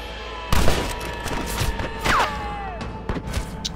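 Gunfire in Red Dead Redemption, several sharp close shots in an irregular burst with echoing reports, a ricochet-like whine and scattered smaller cracks, with a voice faintly present.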